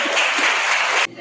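Students in a classroom clap together in a dense, loud burst of applause lasting about a second, then it cuts off abruptly.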